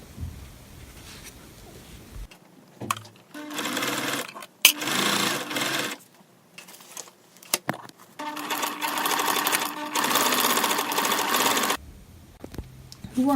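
A sewing machine stitches horsehair braid into a skirt hem in bursts of rapid whirring, stopping and starting with brief pauses and handling noises between runs.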